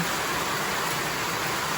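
Heavy rain pouring steadily during a typhoon on a farm during a sponge gourd harvest, a dense, even hiss with no breaks, close and loud.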